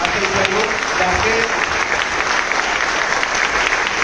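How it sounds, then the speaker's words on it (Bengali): An audience gives a standing ovation for Kumar Monoronjan, steady dense applause from a large crowd throughout, with faint voices beneath. "উঠে দাঁড়িয়ে ওনার জন্য হাততালি চাইবো"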